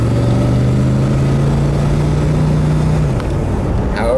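A 1969 Ford Galaxie 500 convertible with a 390 engine drives along, its steady low engine drone holding a constant pitch before shifting and easing off near the end, with no talking.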